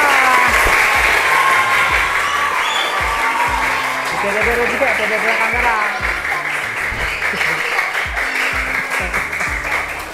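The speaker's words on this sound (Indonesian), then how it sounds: "Tepuk tangan paling kencang untuk kelompok A." Loud, sustained applause from a room of children at a Quran learning school (TPQ), cheering the first-place group, with an adult voice speaking over the clapping throughout.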